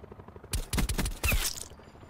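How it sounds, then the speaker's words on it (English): A short cluster of video game gunfire from a multiplayer shooter, three or four sharp loud shots in quick succession, standing alone without talk. "Who's shooting?"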